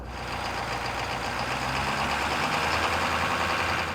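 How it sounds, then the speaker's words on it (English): A diesel truck engine running at raised RPM on a high idle kit, a loud, steady, rumbling drone with constant mechanical knocking, close by and uninterrupted. "fire up the truck, turn on the high idle kit"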